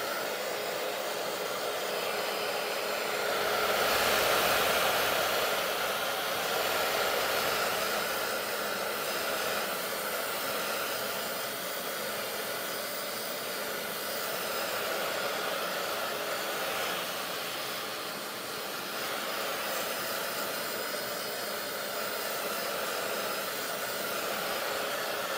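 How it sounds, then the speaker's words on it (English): A hair dryer runs continuously with a steady, loud airy roar and hiss, swelling slightly at moments, with no voices, while drying paint on a painted board. "I'm just kind of pushing the paint around with the blow dryer."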